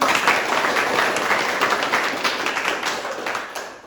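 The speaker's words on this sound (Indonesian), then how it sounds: "Coba saya minta tepuk tangan dulu semuanya" Applause from a gathering of children and youths during a visit to a juvenile detention facility in Bali, dense clapping that holds steady and then tapers toward the end, no speech.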